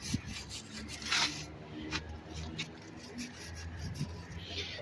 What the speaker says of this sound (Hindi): ये टूल्स देखें, ये वायर ब्रश है जिसकी मदद से इसको साफ़ कर रहे हैं